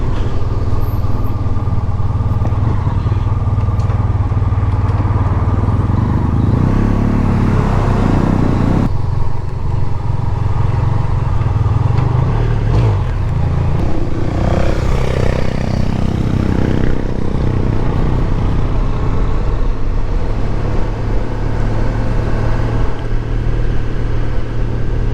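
Motorbikes rumble and idle at the Boxhill bike meet, a loud continuous low engine drone with passing revs and a clattering swell near the middle, heard close and with no talking.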